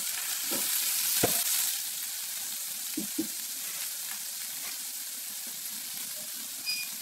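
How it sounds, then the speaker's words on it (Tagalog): Pork frying until golden brown for sinigang sizzles steadily in a pan, a constant hiss broken by a few soft stirring knocks and clatters. "I-fry na natin yan hanggang maging golden brown."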